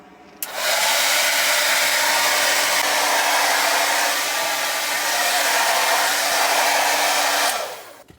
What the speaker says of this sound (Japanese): ドライヤーをね車でします